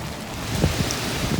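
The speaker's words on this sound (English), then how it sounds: "Heavy rains hit the valley." Heavy rain falls on a vineyard valley at harvest time, a dense, steady hiss with a few low rumbling thuds beneath it and no voices.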